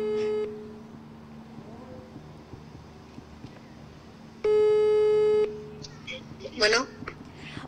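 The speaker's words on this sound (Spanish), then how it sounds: "Aquí ya le estamos marcando a Rogelio." Telephone line tones while dialing a call: a steady low tone under faint background speech, then a loud sustained two-part ringback tone for about a second, followed by brief bursts of higher beeps.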